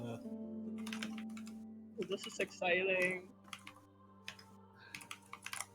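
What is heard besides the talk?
touch typing on a computer keyboard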